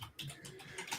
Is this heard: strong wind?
no